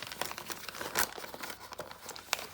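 Packaging crinkles and tears while a heavy-duty cardboard box holding individually wrapped tarot card decks is opened, steady close rustling and crackling with a few sharper bursts, no talking.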